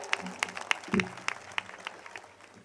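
Brief scattered applause from a Gujarati community gathering audience in Raipur for Devjibhai Patel, a few distinct claps standing out over faint crowd murmur, with a voice briefly heard among them.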